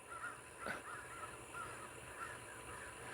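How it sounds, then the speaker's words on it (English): Crows caw repeatedly in the distance, a string of harsh calls over quiet outdoor background. "That murder of crows was chasing that big."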